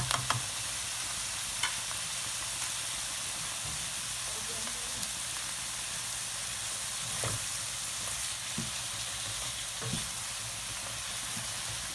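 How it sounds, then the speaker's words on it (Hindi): Vegetables fry in a pan with soy sauce, chili sauce and spices, giving a steady close sizzle and hiss, while a spoon stirs with occasional clicks and scrapes against the pan. "तो हम हल्का सा स्टर करेंगे ताकि ये अच्छी तरह से सारे स्पाइसेस इसमें मिक्सअप हो जाएं।"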